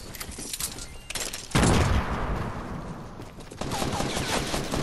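Bursts of rapid gunfire from a Fortnite match, a loud barrage starting midway over ongoing background shots and game noise, with sustained firing continuing to the end.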